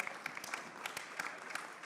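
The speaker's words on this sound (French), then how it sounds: "je vous propose d'applaudir nos 4 intervenants" Scattered clapping from a small conference audience applauding four speakers, steady light applause with irregular claps spread across the moment, moderately faint.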